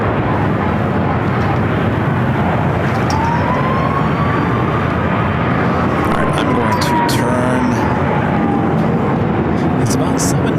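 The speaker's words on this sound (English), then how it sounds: "you're hearing all the sirens from the fire trucks reporting to this alert 2 from the outside fire stations" Fire truck sirens wail in the distance at LAX, a faint rising and falling tone drifting over a loud, constant roar of wind and engine noise, with no talk in the clip.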